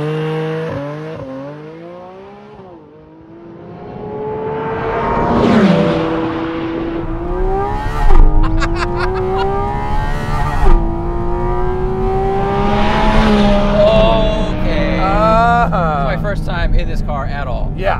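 A Porsche Cayman GT4 RS engine revs high toward its 9,000 RPM redline and climbs through the gears, wailing upward with sharp shifts. Voices talk over it inside the car.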